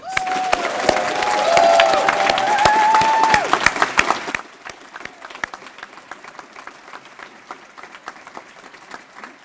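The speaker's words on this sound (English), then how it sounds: "Please join me in giving all of these award recipients a loud round of applause." Loud applause from a crowd at a student leadership awards ceremony, with some cheering and whistles, then the clapping thins out into scattered, quieter claps.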